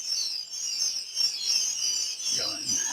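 About 17,000 day-old quail chicks in a brooder peep together in a constant high-pitched chorus, with a brief rustle or low sound near the end.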